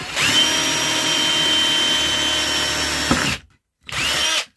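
A power drill with worn, dull bits bores a hole for a light switch, a loud steady whine running for about three seconds, cutting out briefly, then starting again; no talking.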